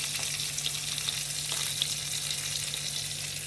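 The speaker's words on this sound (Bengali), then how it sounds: "আগে এটা ভেজে নিই" Bhola fish fries in a pan of oil, producing a dense, steady, close sizzle with scattered small pops throughout and no voices.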